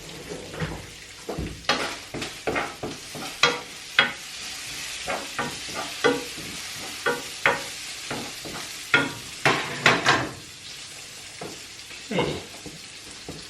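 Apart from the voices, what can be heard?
bacon frying in a pan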